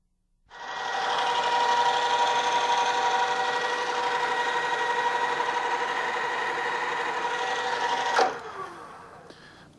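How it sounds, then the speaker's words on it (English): A drill bores a 1/4 inch hole through 1/4 inch metal stock, a steady whirring tone with a grinding edge that holds for about eight seconds, ends in a sharp bite as it breaks through, then spins down. "Going to be drilling a 1/4 inch hole through this piece of 1/4 inch stock"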